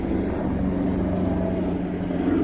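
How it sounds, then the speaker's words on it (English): A steady low rotor drone of a helicopter passing overhead, constant and rumbling throughout with no voices. "I'm seeing there's a helicopter going up, so you have to excuse me for the sound which is coming."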